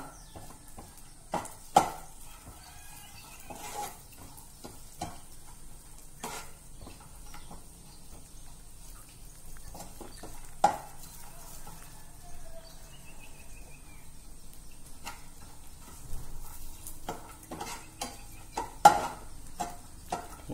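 A spoon stirs a sweet dry-fruit mixture in a pan, with sparse, quiet scrapes and clicks spaced irregularly across a hushed kitchen. Faint bird calls sound in the background.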